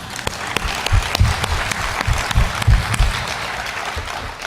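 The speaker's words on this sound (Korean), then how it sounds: "하나님 앞에 영광의 박수" Congregation applause giving glory to God at an early-morning church service, loud dense clapping from many hands filling the room steadily from start to finish with no voices over it.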